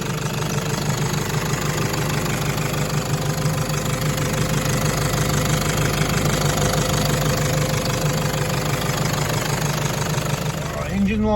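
A newly rebuilt Toyota Hilux engine idles steadily while warming up, a loud, continuous close-up rumble with a knocking, vibrating texture that holds constant from start to finish, with faint voices underneath.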